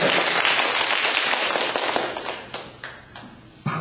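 An audience claps together at a talk given by a Catholic priest, a dense, loud burst of many hands that thins toward the end into a few scattered claps.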